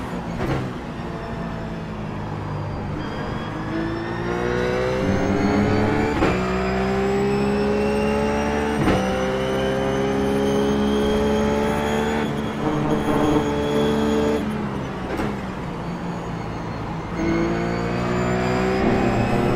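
Ruf GT3 race car engine in the iRacing sim at Donington Park, revving loudly and steadily with rising and falling pitch through gear shifts across a continuous lap, no voices.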